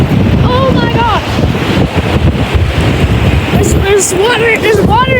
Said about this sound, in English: since it's so windy outside